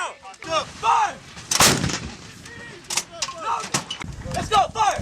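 An M777A2 howitzer fires during a live-fire assault by U.S. Marines and Australian Army gunners, one loud booming report around the middle of the clip with other blasts nearby, while crew shout commands over and between the shots.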